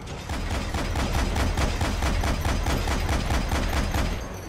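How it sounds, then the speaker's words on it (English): Anti-aircraft cannon fire in Metal Gear Solid V: The Phantom Pain, a loud, rapid, evenly spaced burst of heavy booming shots that runs steadily for several seconds with no voices. "anti-aircraft cannons are actually pretty cool too"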